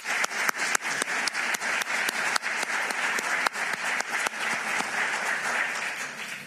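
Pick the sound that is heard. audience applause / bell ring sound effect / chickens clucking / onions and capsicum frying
audience applause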